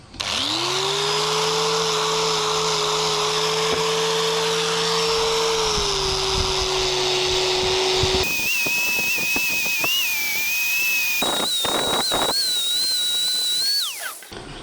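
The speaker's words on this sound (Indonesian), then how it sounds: "Sekarang kita tinggal kita poles gunakan batu hijau." A power tool whirs loudly and steadily, its pitch shifting and rising to a whine as a fishing boat propeller is polished dry with green polishing compound, with grinding and scraping underneath.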